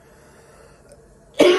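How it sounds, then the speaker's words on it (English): A single sharp cough bursts out near the end after a near-silent stretch, loud and close. "Excuse my coughing"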